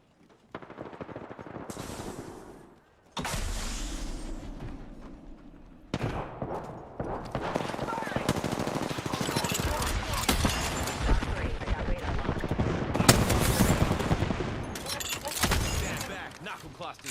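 Rapid bursts of heavy automatic weapon fire from a knuckle cluster in a shooter game, dense and loud with brief pauses, continuing under game chatter and voices.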